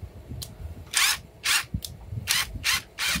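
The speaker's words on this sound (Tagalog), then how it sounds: "Meron ka ng instant drill." A cordless drill converted from an impact wrench whirs close up in several short bursts, stopping and restarting, with hissing high-pitched motor noise between quiet gaps.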